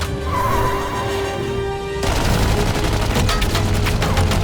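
Rapid bursts of live-ammunition gunfire in an animated Batman cartoon: a calmer stretch gives way to loud, dense fusillades of shots that continue steadily to the end.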